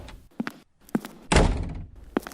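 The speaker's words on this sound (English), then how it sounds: "Slammed the door and tossed the doll onto a chair." A door slams shut in a radio drama, a single loud burst standing out between lighter knocks and thumps, fairly close and alone with no talk.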